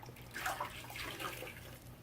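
Grout sponge being rinsed in water while working on a tropical mosaic coffee table, soft sloshing and dripping splashes, faint and close, with no voices.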